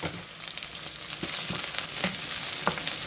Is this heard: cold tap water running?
no